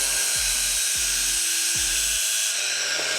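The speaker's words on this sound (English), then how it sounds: "So I grinded down the sleeve." A high-pitched power grinder whines steadily while grinding down the metal sleeve of a mirror mount for a BMW S1000RR motorcycle. It is loud, close and continuous, with a low repeating thump underneath.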